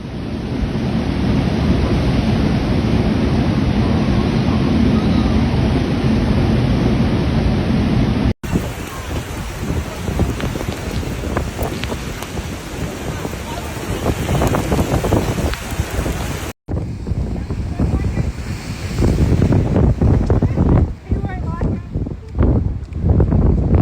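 Cyclone Alfred batters the Palm Beach neighbourhood of the Gold Coast, Queensland, with heavy rain lashing down, a constant loud hiss in three cut sections, mixed with wind and low rumbling surf or thunder.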